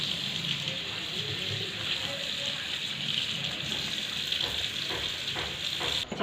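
Cut raw jackfruit being rinsed under running water, a continuous loud rushing gush close by, steady throughout with faint handling noises beneath.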